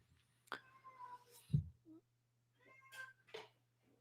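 A pet cat meows a couple of times at close range, with soft voice-like sounds between the calls and a steady low hum underneath.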